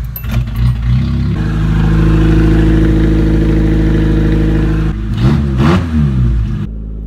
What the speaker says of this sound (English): I'm just going to show you a little bit of an exhaust clip, and just so you guys can get a feel of how this car sounds